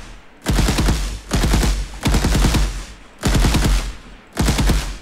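Unreal Engine third-person shooter gunfire comes in bursts of rapid automatic shots, loud and punchy, repeating in evenly spaced volleys with short gaps between them.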